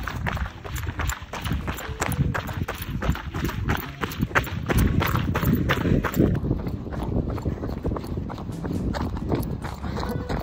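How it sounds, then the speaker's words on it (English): Rapid, regular footfalls from someone running down the rocky trail of Scafell Pike in the Lake District, close and steady throughout, with breathing and wind noise. "Running down with the best view ever."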